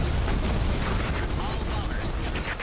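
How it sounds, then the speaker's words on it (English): A bombing run in the video game Earth Defense Force 5 fills the clip with a dense, continuous roar of rumbling explosions, loud and unbroken throughout. "There's a bombing run on my body!"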